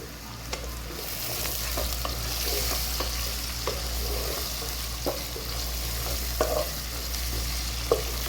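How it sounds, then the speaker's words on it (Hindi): Cumin seeds roasting in a pan while being stirred, a soft steady sizzle with occasional light scraping clicks from the spoon, fairly quiet and close, with no talk. "हल्का हल्का इसको भूनते रहेंगे।"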